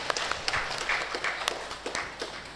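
Applause from a church Christmas service congregation, a scattered, moderately loud patter of clapping with a few sharper individual claps standing out.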